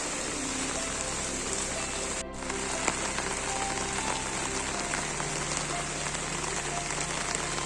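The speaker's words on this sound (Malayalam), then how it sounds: "രാവിലെ മുതൽ ഫുള്ള് മഴയാണ്." Steady heavy rain falls on a rainy day in Kerala, a dense continuous patter and hiss on surfaces throughout, close and fairly loud, with a brief dip midway and no talking.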